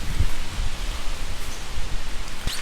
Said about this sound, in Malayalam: പെട്ടെന്ന് മഴ പെയ്തു തുടങ്ങി